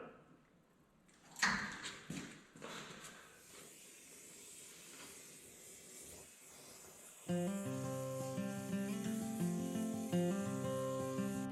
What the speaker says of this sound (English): I'm carefully blowing the tops off of the rivets so I can remove the cab mounts